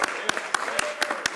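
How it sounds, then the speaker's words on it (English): Applause in a parliamentary chamber after a member for Sudbury is introduced to speak during a 2013 budget debate: brief sharp claps over a steady room murmur, with no speech. "a great round of applause"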